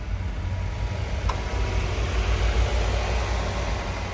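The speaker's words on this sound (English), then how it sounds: "here is the engine sound." A 2025 Mitsubishi Eclipse Cross 1.5-liter four-cylinder turbo engine idling with the hood open, a steady low, even hum heard close up with no voices.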